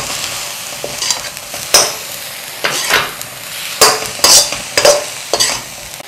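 Keema mixed with tomatoes is stirred in a kadai, a constant close sizzle broken by a series of sharp scraping and clanking strokes of the spoon against the pan.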